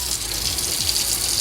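Water running steadily from a tap through a hair-catcher drain stopper in a sink, a continuous close hissing gush with no breaks and no voices.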